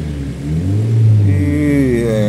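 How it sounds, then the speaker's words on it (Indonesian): A Toyota Vios Limo GR TRD Sportivo with modified racing exhaust opened revs up close and loud, engine pitch rising and falling smoothly, with someone talking over it. "Ih, mesinnya halus bos, knalpotnya racing, ada 4 suaranya nih."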